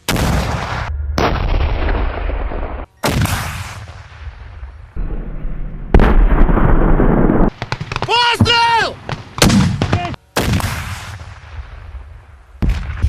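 Several loud gunshots or artillery blasts ring out near the border, each followed by a long echoing boom, with shouting voices between them.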